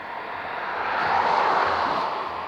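An old Fiat car passes by, a broad rushing road noise that swells and fades over a couple of seconds, fairly close, with no talking.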